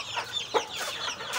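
Backyard village chickens cluck softly in short, scattered calls, fairly close and quiet, with no speech.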